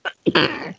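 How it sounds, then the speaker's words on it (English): A single sneeze bursts out close by during a tabletop gaming session, a short sharp intake followed by a loud, breathy expulsion lasting under a second. "Bless you too, whoever sneezed."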